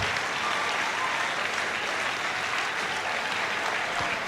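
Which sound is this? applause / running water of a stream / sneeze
applause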